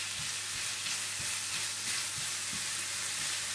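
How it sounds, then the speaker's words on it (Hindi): Carrots cooking with sugar and ground cardamom in a pan give a constant soft sizzle with faint rhythmic stirring taps, close and steady with no voices. "गाजरों को हल्की आंच पर रखकर भूनने के बाद आप इसमें डाल दें चीनी, पिसी हुई इलायची और इन्हें अच्छी तरह से मिक्स कर लें"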